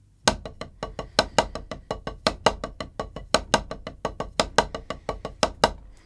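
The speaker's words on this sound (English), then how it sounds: "So first let's just go over the basic 6-stroke roll played with your hands." A six-stroke roll played with the hands on a drum, sharp, evenly spaced strokes in repeating groups with periodic accents, close and clear with no voices.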